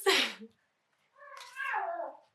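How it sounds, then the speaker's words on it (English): A cat meows loudly and close by as it jumps around a room, with one short, sharp cry, a pause, and then a longer, wavering yowl. "my cat's going crazy again."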